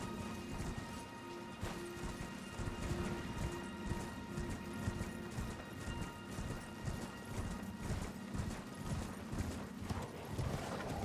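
A horse gallops in the Elden Ring video game, with rapid, even hoofbeats pounding steadily and up close for about eleven seconds, alone with no voices.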